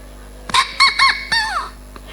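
A man imitates a rooster's crow with a rising, stuttering cock-a-doodle-doo that ends in a long falling note. It is a single close, clear call with no other talk.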